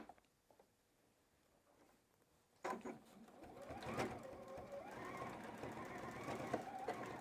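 After a quiet start, a sewing machine starts up and stitches fabric for a chef hat, its needle whirring in a steady, fast mechanical rattle up close that holds to the end.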